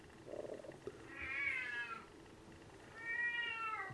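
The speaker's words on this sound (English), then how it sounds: "Now I've got my pussycat meowing." A pet cat meows twice, with a long drawn-out meow and then a second one after a short pause, close and fairly loud in a quiet room with a brief low bump between them.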